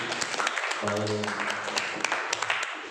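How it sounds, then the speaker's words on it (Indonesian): Classroom audience clapping for a student group during a teaching practice session, a brisk patter of hands that runs throughout, with a voice speaking briefly over it near the start. "berikan aplaus sekali lagi buat kelompok kami"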